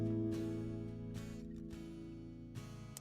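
Acoustic guitar chord from a song, played quietly and up close with several soft strums ringing over a sustained low tone, no voices.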